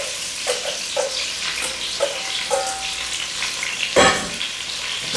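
Garlic and onions fry in hot oil with a steady close sizzle, punctuated by light taps and clinks of a utensil and a louder crackling burst as more onions hit the pan.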